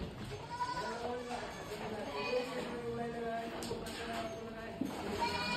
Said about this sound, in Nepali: यहाँ प्रशस्त मात्रामा चाहिँ गोड जातको बाख्राहरू बोकाहरू चाहिँ यहाँ प्रशस्त मात्रामा छ